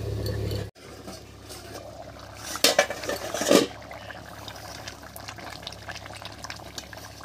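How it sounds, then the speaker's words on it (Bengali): A lid lifted off a pot of rice cooking for a drumstick ghanto, two clanking metallic knocks in the middle over a low simmering, bubbling background. "এবারে ঢাকাটা তুলে নিচ্ছি"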